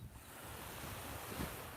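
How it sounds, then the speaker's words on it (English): Steady wind at the beach roars across the microphone in a continuous rushing wash, with surf mixed in and no voices. "it's getting a little windy, which is really nice"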